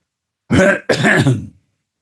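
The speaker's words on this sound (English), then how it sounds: "Let me clear my throat." Two loud, rough throat-clearing bursts close by, the second longer, then silence.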